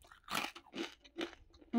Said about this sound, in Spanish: Es un trocito de la regaña. Y está súper crujiente.